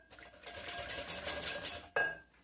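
A whisk beats strawberry gelatin dessert mixture in a bowl, giving a soft rhythmic scraping and clinking that ends in a sharper metallic knock against the rim, quiet and without speech.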